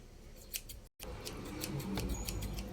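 Scissors snip through material for a handmade squishy, giving a quick series of crisp, close cutting clicks in an even rhythm with a brief gap in the middle, and no talk.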